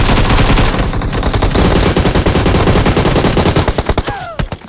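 AUG assault rifle firing full-auto in a battle royale shooter, a loud rapid burst of gunfire that runs steadily for several seconds before tapering into a few last shots.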